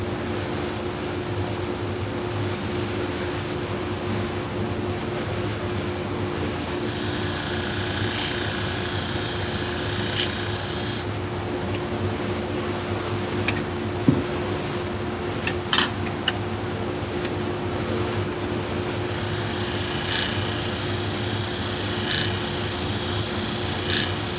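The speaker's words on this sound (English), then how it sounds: "I'll just have to grind it till I get any of the damage out of it if possible." A steady sharpener motor hum runs throughout while intermittent bursts of high-pitched abrasive grinding on damaged salon hair shears come and go, with a few sharp metallic ticks in between.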